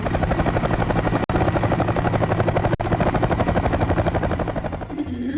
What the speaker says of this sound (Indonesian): Kenapa dia bisa terus naik helikopter ke sekolah?